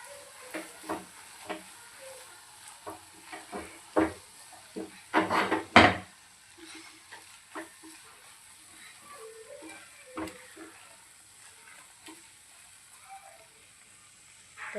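Mutton keema stirred in a pan with green coriander for Mumbai-style keema pav, giving a soft frying sizzle broken by scattered scraping stir strokes and a louder clatter near the middle, with no talking.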